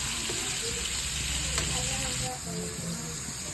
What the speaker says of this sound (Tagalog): So lutuon na ang ground pork.